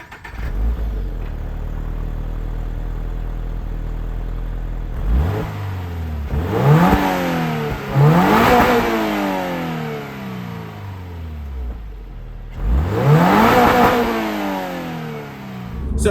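A 2022 Toyota GR86 engine idles steadily, then revs hard three times, each rise climbing sharply before falling back, loud and close with no talking.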